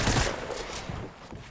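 Rapid bursts of shotgun fire in a video game battle, several loud blasts crowding together in a quick volley, close up.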